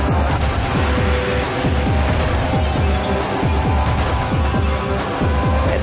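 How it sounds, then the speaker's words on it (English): A Formula One race car engine drones steadily with a repeating pulsing rhythm that swells and fades, loud and continuous, with faint talk in the background. "Formula One engine."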